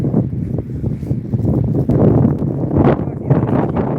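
Wind buffets a microphone in low, rumbling gusts that swell and fade over a few seconds, loud and close, with a voice faintly under it, outdoors in snowy Zhytomyr, Ukraine.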